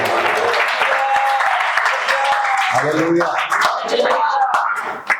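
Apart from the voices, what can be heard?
congregation clapping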